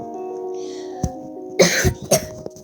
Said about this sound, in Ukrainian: Вибачаюся за, ка... кашель, бо щось в горло